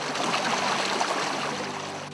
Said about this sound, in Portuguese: São os canais de água que, além de dar a cara, criam a trilha sonora da cidade